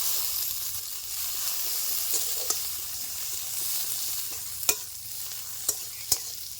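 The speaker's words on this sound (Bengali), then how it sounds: "ফোড়নে দিয়ে দিচ্ছি রসুন কুচি, দিয়ে দিচ্ছি পেঁয়াজ কুচি" Chopped garlic and onion fry in mustard oil for a gutum fish curry, producing a steady close hissing sizzle with a few sharp clicks of a spoon against the pan.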